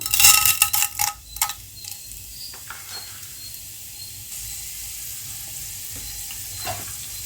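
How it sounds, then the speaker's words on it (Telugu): Tempering spices hit hot oil in a kadai for Andhra-style tomato dal, bursting into a few loud sharp crackles at first, then settling into a quieter, even sizzle. "ఆయిల్ అనేది వేడయిన తర్వాత పోపు దినుసులు వేసుకుందాం"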